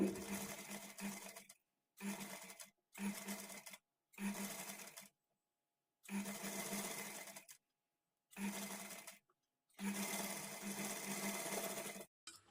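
An electric sewing machine stitches blouse sleeves in short bursts, each a fast steady whirring run of a second or two separated by brief silent pauses, close and clear with no talk.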